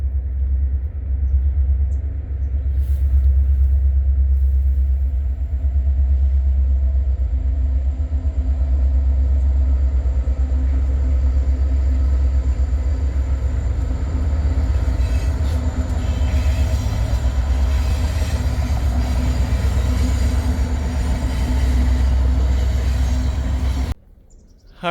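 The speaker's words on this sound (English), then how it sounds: "and here comes the train" A train rumbles past close by, a loud continuous low roar with clattering wheels and faint high squeals, cutting off abruptly at the end.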